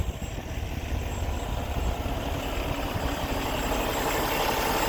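2015 Kenworth T800 sleeper winch truck idling, a steady low diesel rumble with a broad even hum, close and continuous with no talk.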